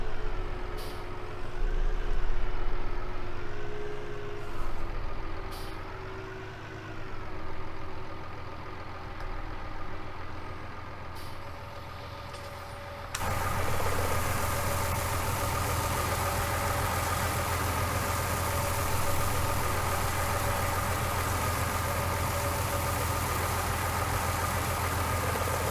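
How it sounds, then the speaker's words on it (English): A tractor on a farm, its engine running steadily at idle with a low continuous rumble, close and fairly loud, the tone thickening into a harsher, noisier drone partway through, with no talk. "Not a bad wee beastie this tractor, I have to say."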